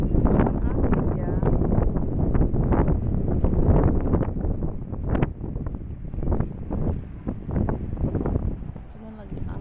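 Gusty wind at a canal-side bridge buffets the microphone in loud rumbling bursts, easing toward the end, while a voice talks intermittently over it.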